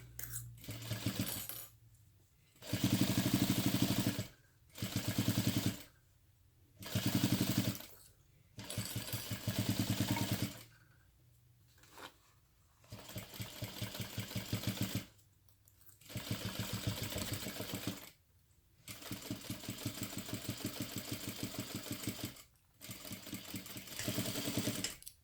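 Sewing machine stitching a crossbody bag over a folded gusset and pocket, running in repeated bursts of a few seconds each with short pauses between, close and steady.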